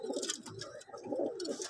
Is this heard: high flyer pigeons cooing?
yes